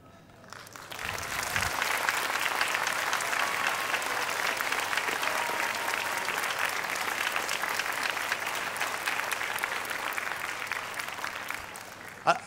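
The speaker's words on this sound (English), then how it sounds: "I didn't say give them a round of applause" An audience claps together at a primary school sports awards ceremony, a dense, steady wash of applause that swells in quickly and holds evenly for about ten seconds before fading, ending on one sharp clap.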